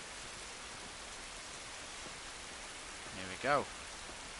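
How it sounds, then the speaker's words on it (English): In-game rain from The Last of Us falls as a steady, even hiss throughout, while someone speaks briefly near the end. "The rain sound effects are amazing."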